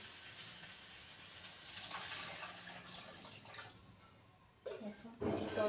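Water pours into a cooking pan holding large chunks of potato, a brief splashing fill that swells near the end after quieter kitchen sounds, with speech around it.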